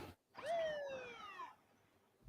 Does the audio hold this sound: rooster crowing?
no